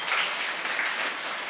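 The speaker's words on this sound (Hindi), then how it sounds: "बजाओ तालियां" A class at an astrology training session bursts into brief, close applause, a dense, loud burst of many hands clapping that holds steady and then stops.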